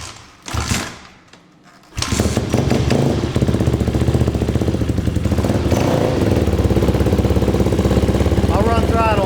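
A 2008 KTM 250 XCFW motorcycle engine catches after a short cranking attempt and settles into a loud, steady, close-up idle with a rapid pulsing beat, while people talk briefly at the start.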